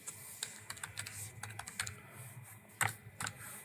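Typing on a computer keyboard, light irregular key clicks at a brisk pace, close and fairly quiet, with no talk.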